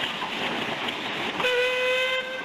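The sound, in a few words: steam locomotive with whistle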